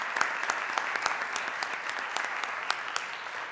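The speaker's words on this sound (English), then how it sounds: "Would you guys all mind just applauding them" An audience at a city council meeting applauding, a few seconds of steady clapping from many hands at moderate distance, without talk.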